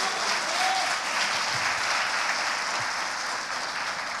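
Congregation applause at a church service, a steady, dense wash of clapping from many hands that holds evenly throughout, fairly close and loud, with no talk over it.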